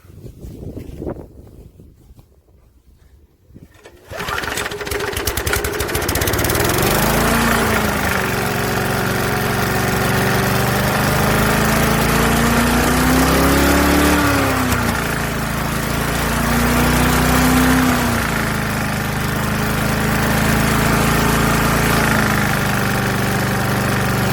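An old, dirty Rover lawnmower engine bursts into life after a quiet start and then runs steadily and loudly, its pitch rising and falling as it is revved up and eased back several times.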